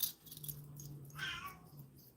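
A cat gives a drawn-out, whiny meow with a rising wail in the middle, faint and close in a quiet indoor room with a low background hum and no talking.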